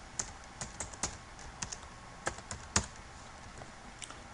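A password being typed on a computer keyboard: a quiet, uneven run of sharp individual key clicks, close by, with short pauses between bursts and no talking.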